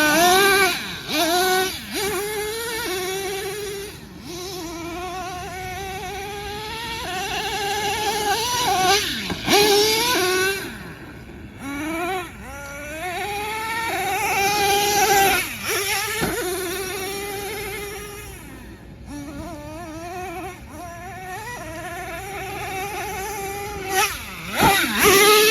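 A Traxxas Nitro Revo 3.3 nitro RC car engine screams at high revs, rising and falling in pitch as it accelerates, passes and brakes, loud and close with brief dips between runs.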